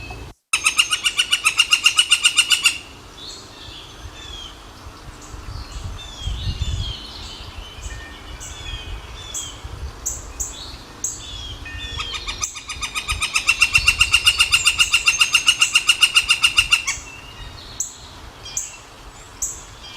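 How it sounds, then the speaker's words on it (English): Yellow-shafted northern flicker calling: two long, rapid series of loud, evenly spaced notes, one at the start and one later, with softer scattered bird sounds between them in an open outdoor setting. "So this is the northern flicker."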